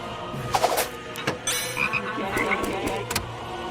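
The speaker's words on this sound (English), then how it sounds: "Alien frogs!" Frogs croak repeatedly in a loose, uneven chorus of bursts at close range, with no one talking over them.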